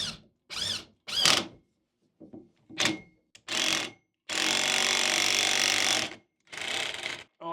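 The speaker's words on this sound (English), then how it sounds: "this is one of these situations when you want the right angle drill" A right angle drill drives into wood in several short whirring bursts, then runs steadily for about two seconds, close and loud, with brief pauses between pulls.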